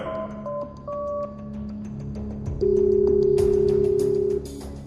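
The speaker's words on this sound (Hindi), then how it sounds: "उसने डॉन को फोन लगाया।" A few short electronic tones sound, then a steady, loud telephone tone holds for about two seconds before cutting off.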